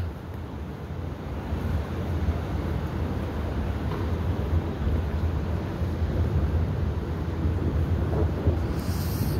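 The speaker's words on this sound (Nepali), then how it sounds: "चिसो हावा" Cold wind blows steadily with a low rumbling gust against the microphone, holding constant throughout with no talking.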